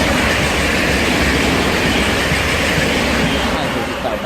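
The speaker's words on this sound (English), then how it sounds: "now getting ready to pass by is a Virgin Trains East Coast Great Northern service from Peterborough to London King's Cross" A Great Northern Class 365 electric train passes close by on the East Coast Main Line at Hitchin, a loud, steady roar of wheels and motors with a faint squeak in it, lasting throughout.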